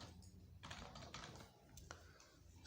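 Rapid key clicks from a computer keyboard while typing HTML code in an editor, a quiet run of light taps in uneven bursts with a pause midway, close and alone.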